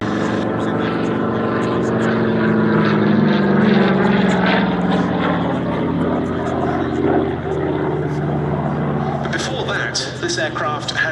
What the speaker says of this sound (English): Back comes the Spitfire pulling up.